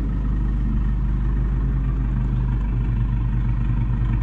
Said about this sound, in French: Au ralenti, bien sûr, la voiture fait ce son.